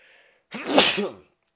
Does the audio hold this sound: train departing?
no